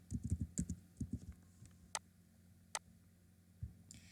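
Typing a file name on a computer keyboard in a spreadsheet program: a quick burst of soft, close key clicks, then a few isolated taps after a pause, faint and without talk.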